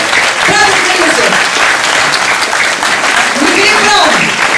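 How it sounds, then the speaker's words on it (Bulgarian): A hall audience at a film screening and exhibition claps loudly and continuously for the film's actors as they stand, and voices call out over the sustained applause. "Аплодисменти!"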